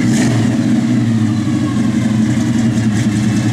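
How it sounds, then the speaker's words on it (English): A 1969 GMC C15 pickup engine revving nearby, with deep, throaty pulses and a loud, gritty rumble that swells and eases without talk. "Truck sounds mean."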